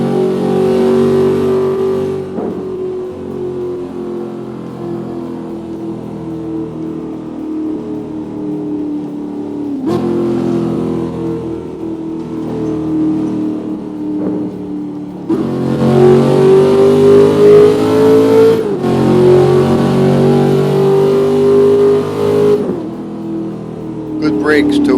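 A Chevrolet Corvette ZR-1 accelerating on the road, its engine note loud and close, climbing steadily in pitch through several pulls with brief drops between them.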